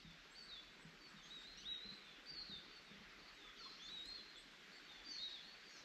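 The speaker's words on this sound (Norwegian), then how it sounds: "Fuglen har våkna." Small bird chirping in a forest at dawn, short high tweets repeating every second or so against a soft, steady outdoor hush, fairly distant and faint.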